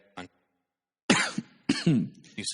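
Several harsh coughs in separate bursts: one short cough, a pause, then a cluster of heavier, rougher coughs, close to the microphone with no talking.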